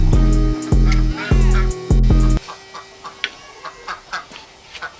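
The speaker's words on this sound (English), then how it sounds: "So here's one of the roosters that we kept." A rooster in a homestead chicken coop crows loudly and close in a few repeated harsh calls at the start, followed by softer scattered clucks and coop noises from the flock.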